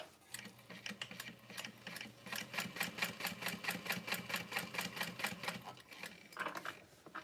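A sewing machine stitches slowly along the edge of a leather bag at a 4.5 stitch length, running in a steady rapid rhythm for about six seconds before winding down, close and clear.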